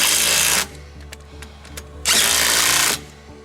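An impact wrench tightens bolts on a VW Super Beetle under crash repair, firing in two loud, close bursts of about half a second and one second, with quiet shop noise between.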